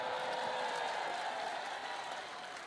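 Audience applause at a Christmas address, a steady wash of many hands clapping that slowly fades toward the end.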